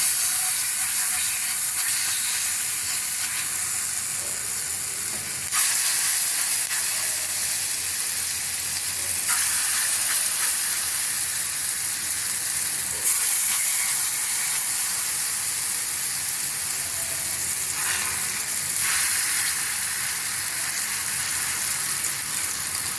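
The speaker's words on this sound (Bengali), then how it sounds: "তেলটা গরম হয়ে গেছে, এখন আমি এই ব্যাটারটা" Sesame batter fritters fry in hot oil, a loud continuous close sizzle with a few brief surges and no talk.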